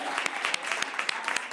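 A committee session audience gives a round of applause for Delegate Todd Morgan, close, bright, dense clapping with a few sharper individual claps standing out.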